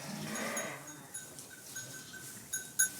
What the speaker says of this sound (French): Cette brebis vient de mettre bas, mais Jessica a repéré que quelque chose n'allait pas